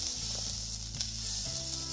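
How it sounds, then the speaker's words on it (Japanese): Steady, dense sizzling of rice frying in sesame oil over low heat in a pot, continuous and close, with faint low scraping or stirring sounds underneath. "鍋にごま油と米を入れて弱火にかけ、米の周りが少し透き通るまで炒めます"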